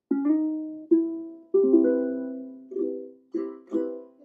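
A ukulele plays a phrase with slides between notes, six plucked notes and chord tones in an unhurried melodic rhythm, close and clear with no talking.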